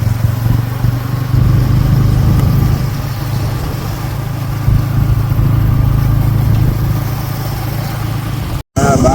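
A motorcycle engine runs steadily and fairly loud throughout with a continuous low drone, then cuts off abruptly near the end.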